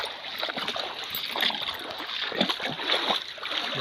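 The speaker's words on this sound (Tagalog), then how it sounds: "Tawid na naman ang sapa." Water splashes and sloshes continuously as someone wades across a stream, close and moderately loud, with irregular surges of splatter.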